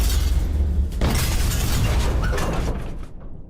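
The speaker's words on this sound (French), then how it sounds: "Ces grenades font beaucoup de bruit." Depth charge grenades detonating around the submarine Wahoo in a WWII sea battle, a sustained heavy rumbling blast with shattering crackle that fades out toward the end.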